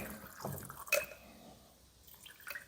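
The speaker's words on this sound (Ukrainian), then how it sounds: "Виливаємо в баночку сюди до чистого розчинника." Paint thinner pours from a spray gun cup into a small jar: a quiet, brief liquid splash and drip with a sharp clink partway through, in a still room.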